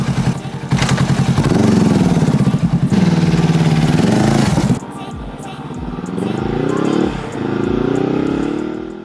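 A Honda CB500X motorcycle engine idles with a steady low rumble, briefly revving between throttle blips, recorded close up with some wind and handling noise.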